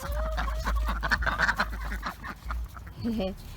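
Ducks quack and honk loudly nearby amid a flock of chickens being let out, with a person talking over the birds.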